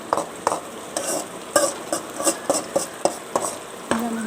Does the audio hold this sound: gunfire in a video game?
no